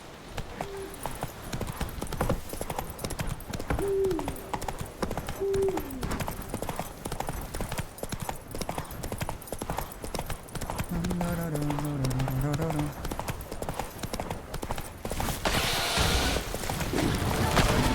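Hooves clip-clop steadily throughout, with a horse's whinny partway through and a busy game soundscape underneath, in The Witcher 3.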